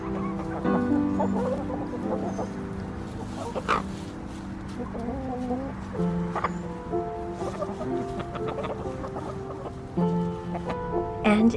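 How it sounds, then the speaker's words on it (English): Hens cluck steadily in a busy barnyard, with soft scratching and scattered higher calls from several birds nearby, continuous throughout. "Chickens are scratching."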